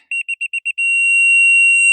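A laser level receiver on an off-grid cabin build site beeps in a quick run of about six evenly spaced short tones, then settles into a loud, steady continuous tone.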